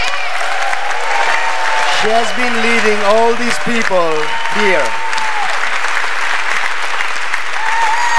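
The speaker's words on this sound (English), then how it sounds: "I would like an applause for Petya." Sustained applause from a large conference audience for an organizer, loud and continuous throughout, while someone speaks over it and her amplified voice shows clear pitch contours above the clapping.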